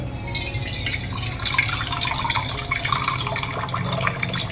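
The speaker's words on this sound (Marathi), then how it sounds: "तर याचं मी आता ह्याच्यातलं पूर्ण पाणी काढून टाकणार आहे" Water draining from soaked sago pearls, a close continuous trickle and drip with light splashing throughout, nobody talking.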